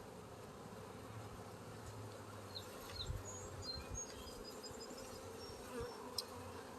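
A quiet, steady hum of numerous honey bees lingering in a hive, with a few soft knocks and individual buzzes rising briefly over the constant drone.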